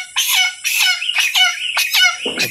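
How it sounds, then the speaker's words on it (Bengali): A chicken bought at the market makes loud, close, strident clucks and squawks in quick repeated bursts, with short gaps between calls and no talk over them. "একটা মুরগি আনছে দাদা।"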